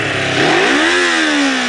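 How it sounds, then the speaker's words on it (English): A motorcycle engine, heard from the rider's position during wheelie practice, revs up loud and close toward nearly full throttle. Its pitch climbs steadily, then levels off and eases slightly as the revs hold. "you're gonna be bringing the revs up, and what you're gonna do is just slam it down to like 3/4, almost full throttle."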